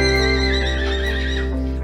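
A miniature horse lets out a strong, close neigh, a rising and wavering whinny over a steady low hum.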